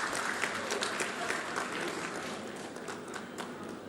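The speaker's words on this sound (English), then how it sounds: "Kindly, a big round of applause" Applause from an audience at a presentation ceremony, steady dense clapping throughout, fairly loud and continuous with no speech over it.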